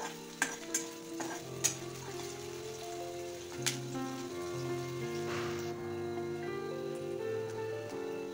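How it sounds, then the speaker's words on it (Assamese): Onions fry in oil in a wok (kadai) for a sweet potato curry, giving a quiet, continuous close sizzle. A few sharp clicks and spits come early, with faint tonal background sounds underneath. "এয়া পিঁয়াজখিনি ফ্ৰাই কৰি আছোঁ।"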